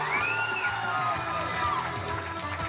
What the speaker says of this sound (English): let's give our newlyweds a nice round of applause.